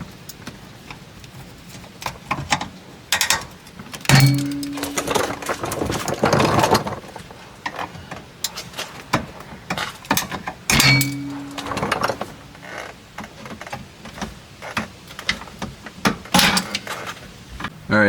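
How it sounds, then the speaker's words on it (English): Pop rivets being prised out from under the bumper of a 2022 Toyota Corolla hatchback, heard as a run of sharp clicks, taps and scrapes of plastic and tools, close and intermittent. "there's a handful of those pop rivets that are down here, so I just need to get these popped out now"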